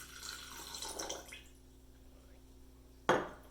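Liquid being poured into a container, 100 milliliters measured out: a soft splashing trickle over the first second and a half, then quiet, ending with a sharp clink of glass near the end.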